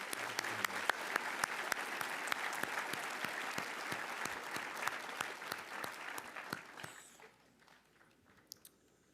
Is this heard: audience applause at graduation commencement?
yes